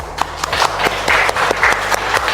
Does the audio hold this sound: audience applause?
yes